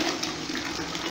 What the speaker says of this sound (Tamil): இப்போ நான் திருப்பியும் நல்ல தண்ணியில் இந்த மேட் எல்லாத்தையும் அலசுகிறேன்